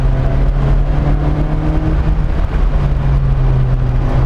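A Lotus Elise Sport 220 sports car engine droning steadily under acceleration while driving, a loud, close, continuous hum with wind and road noise and no talking.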